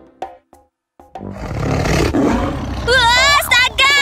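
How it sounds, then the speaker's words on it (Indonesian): A lion roars loudly in a cartoon children's animal song, its rumbling roar filling the middle of the clip after a few short sounds, followed by a high, sliding musical or vocal tone. "Wah, astaga, ada singa."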